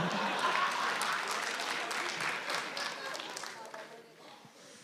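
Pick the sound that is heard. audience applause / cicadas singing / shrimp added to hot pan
audience applause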